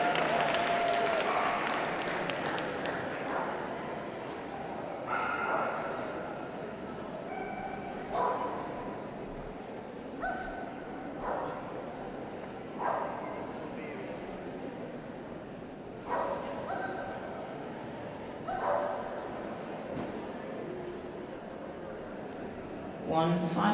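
At a national dog show in Birmingham, working-group breeds such as Bernese Mountain Dog, Boxer, Doberman, Newfoundland and St. Bernard give occasional barks and yips amid crowd applause, heard under a loud announcer talking over the public address.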